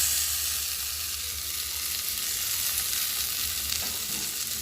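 Prawns dropped into fried spice paste for a prawn malai curry, a steady bright sizzle filling the pan with little variation and no stirring strokes.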